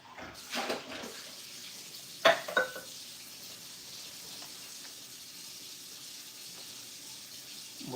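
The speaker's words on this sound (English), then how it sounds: "Let me rinse out my my shakers and stuff." Cocktail shakers rinsed under a running tap at a home bar: a soft, steady wash of water with a couple of brief metallic knocks, fairly faint.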